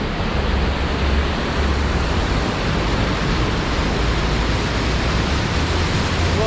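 A waterfall beside a walking path at the Rumi Tomb in Konya, a steady broadband rushing of falling water, continuous and fairly close with no voices.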